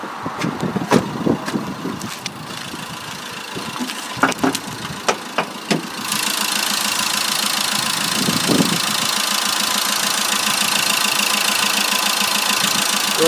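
A 2013 Vauxhall Combo engine idles with the hood open: a few seconds of clicks and handling knocks, then a steady, even idle hum that continues close and unbroken to the end.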